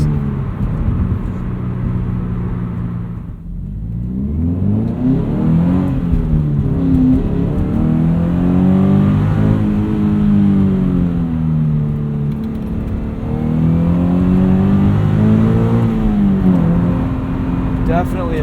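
A Subaru BRZ engine accelerating while driving, heard from inside the car as a steady low droning hum that rises and falls in pitch through gear changes, with a dip around one shift and faint cabin noise throughout.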